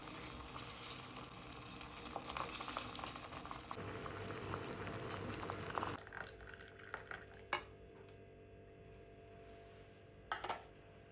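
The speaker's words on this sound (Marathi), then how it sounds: "जेवढा काढा बनवायचा आहे, तर त्याच्या दुप्पट पाणी उकळायला ठेवायचं" A pot of water boils with chopped tulsi leaves and crushed spices for a kadha herbal decoction, a steady close bubbling that carries on throughout, broken near the end by a couple of sharp utensil clinks; no one speaks.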